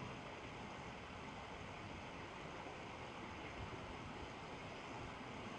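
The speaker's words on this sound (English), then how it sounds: "I hear water again." Steady, full-bodied rush of water in the Mermaid Swamp video game, a dense unbroken wash like surf or flowing water that holds at an even level throughout, with no voices.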